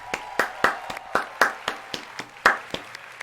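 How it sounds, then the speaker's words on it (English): Sparse clapping from a few hands for the QuakeCon 2018 volunteers, roughly a dozen separate claps at an uneven rhythm, close by and distinct instead of a full crowd roar. "a round of applause for the volunteers"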